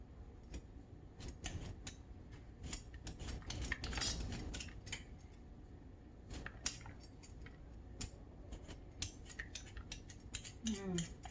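Fresh ginger root is peeled in a home kitchen, with repeated close scraping and clicking of a utensil against the root and light clatter, running steadily under occasional faint voices.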